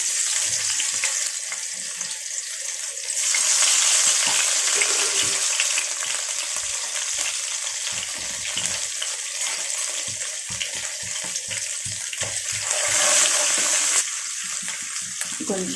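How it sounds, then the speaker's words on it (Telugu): Fenugreek seeds, onions, ginger and garlic frying in a pan, a steady close sizzle that runs throughout and swells louder in two stretches, with faint stirring scrapes and no talking. "ఇది కొంచెం వేగాలి ఇంట్లో మెంతులు కొన్ని ఉల్లిగడ్డలు కొంచెం అల్లం వెల్లుల్లి"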